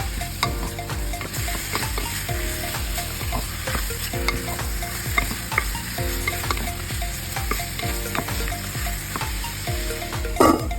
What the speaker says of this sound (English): and then we add the pork. Saute well.